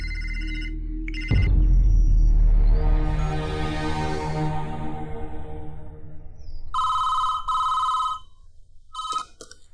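A telephone rings in a dramatic movie scene, first a short burst, then a loud swelling tone, followed by two clear electronic ring bursts near the end, heard alone without talk.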